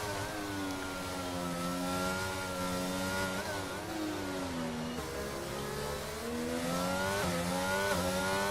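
Formula 1 race car engine in the F1 22 racing game at the French Grand Prix, a sustained high-pitched whine rising and falling through gear changes across the whole stretch.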